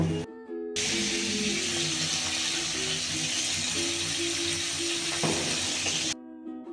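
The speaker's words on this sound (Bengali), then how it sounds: "জয়া সোনা ফুলকপি মালাইকারি রান্না করেছে" Cauliflower malai curry cooks in a pan with a continuous, fairly loud sizzle and hiss, light stirring and a faint clink, running steadily for about six seconds with little talk.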